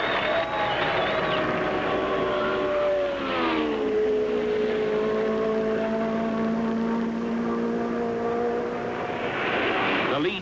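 Race cars at the 1975 Indianapolis 500 roar past, one loud engine whine sweeping downward in pitch as it goes by, then another car's rising howl approaching near the end over a constant track rumble.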